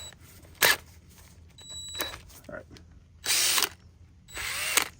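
Short bursts from a power drill fitted with a bit for stripping rust off the undercarriage of an Acura MDX, three or four loud whirring runs of a second or less separated by pauses, with faint clicks and rattles in between.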